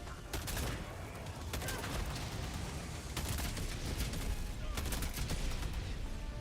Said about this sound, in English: M4 shooting real close to my shoulder